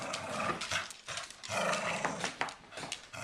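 A Cocker Spaniel and a Pit Bull growl and snarl as they play-fight, giving a continuous rough, rumbling growl close to the microphone with scuffling bursts and no talking.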